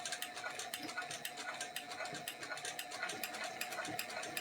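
A sewing machine's automatic thread cutter mechanism clicks and ratchets in a steady, rapid metallic rhythm close up, with a faint underlying hum.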